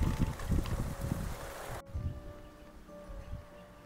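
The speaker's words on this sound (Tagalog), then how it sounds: "Malakas yung hangin, tsaka malamig din yung simoy ng hangin." Strong, cold wind at a work site in Africa roars and buffets the microphone in loud gusts, then abruptly falls to a quieter, steadier blowing.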